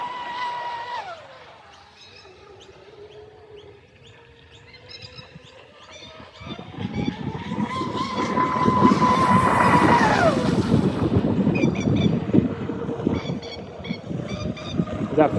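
A 3D printed RC vehicle on 6S power starts with a rising whine, then roars at full throttle with loud broadband wind and motor noise from a moderate distance.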